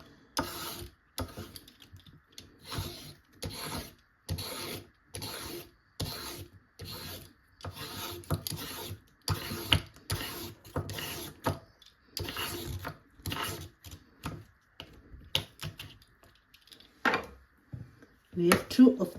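Carrot being peeled into strips with a potato peeler, a series of short scraping strokes in a steady rhythm, close and moderately quiet, with a few pauses between strokes.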